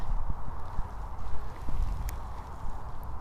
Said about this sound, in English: Number of horses in the field here